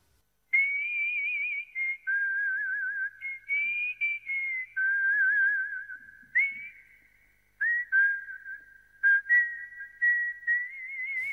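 Someone whistles a film melody solo, a clear, close and fairly loud tune of sustained and wavering notes, broken into phrases by short pauses.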